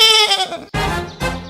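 A cartoon goat, a magically transformed character, bleats in two loud wavering calls with a short gap between them, close and alone with no talk.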